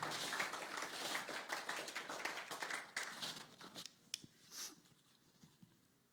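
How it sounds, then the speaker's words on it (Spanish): A church congregation claps in praise during a bilingual sermon, a burst of clapping that starts full and gradually thins out into a few scattered, fainter claps near the end. "give a hand praise to the Lord"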